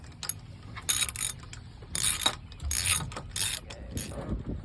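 Ratchet tightening a spark plug on a jet ski suffering a loss of power, heard as bursts of clicking mechanical ratcheting, close and fairly loud, with short pauses between strokes and no talking.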